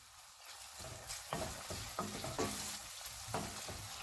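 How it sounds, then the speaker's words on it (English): Onions frying in a pan for vegetable biryani, a soft sizzle with intermittent stirring scrapes, fairly quiet and close, without speech. "While cooking the onions, add little bit of salt along with that, so that the cooking process will be quicker."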